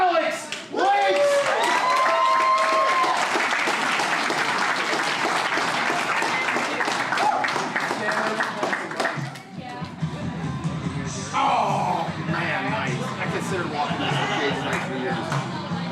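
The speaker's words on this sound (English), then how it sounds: "Can I have some applause?" A crowd at a club MMA event applauds and cheers loudly and continuously for most of the span, thinning toward the end into chatter, with an announcer's voice heard over it.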